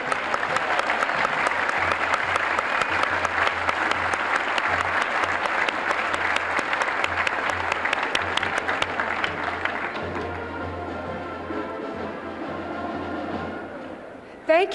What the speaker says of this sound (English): One more round of applause for the Harvard Band.